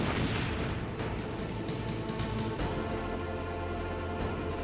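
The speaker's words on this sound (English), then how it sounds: "Right, that's my grenade, run!" A grenade blast in a 3D Metal Gear game: a loud, dense rumble fills the whole stretch with sustained low booming and crackle, with no talk over it.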